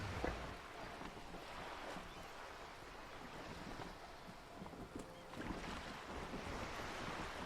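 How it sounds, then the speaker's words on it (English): Wind and waves surround a sailboat in a video game, a steady, moderately loud wash of surf and rushing air with a few small knocks and swells, continuous throughout. "The wind flaps the sail above her."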